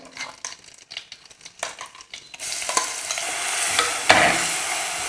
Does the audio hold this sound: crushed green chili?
yes